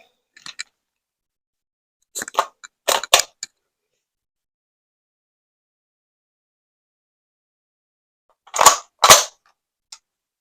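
A We-Tech MP5 airsoft gun fires in three-round burst mode, giving sharp, close, loud clusters of rapid snapping shots separated by silence, with a couple of fainter single clicks.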